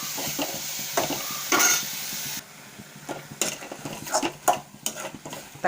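Onions with a little salt sauté in a pan for tomato chutney, with a stirring spoon scraping and clinking against the metal in irregular bursts over a soft sizzle, close and fairly loud.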